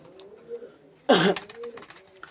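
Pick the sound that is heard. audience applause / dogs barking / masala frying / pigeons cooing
pigeons cooing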